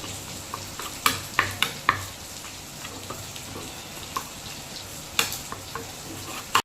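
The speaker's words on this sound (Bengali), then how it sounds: "দেখো, চিংড়ি মাছ ভাজা হয়ে গেছে" Prawns frying in oil in a wok, a soft continuous sizzle with intermittent clinks and scrapes of a spoon stirring, fairly quiet and close.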